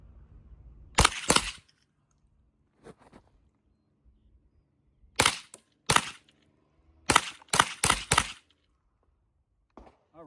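Sharp, dry cracks from a Rossi RS22 .22LR rifle, fired as two quick shots, then a pause, then a tight string of four or five more with brief gaps between them, with only quiet outdoor air around the shots.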